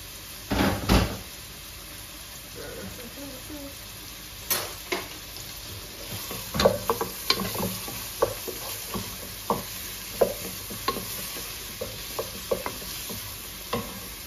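Chopped onion fries for a fish curry, a low, steady sizzle close by, broken by scattered stirring clinks, scrapes and a few louder utensil knocks, with no voices.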